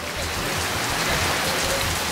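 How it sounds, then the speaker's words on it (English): Heavy rain pours down in Cozumel, Mexico, in a dense, constant hiss and patter, close and loud, with no voices. "It's raining pretty hard right now"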